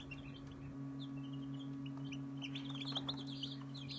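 Newly hatched chicks from an incubated batch of eggs give repeated high, thin peeps scattered through the clip, over a steady low electrical hum, with no talking.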